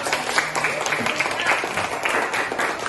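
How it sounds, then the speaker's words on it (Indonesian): A classroom audience claps together for a few seconds after a group presentation. The clapping is fairly close, continuous and mid-loud, with voices mixed into it. "Oke, beri aplaus dulu."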